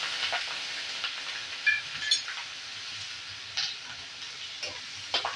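Steady crackling sizzle of chili and curry leaves frying in oil, with occasional sharper pops and a few stirring clicks, close and continuous.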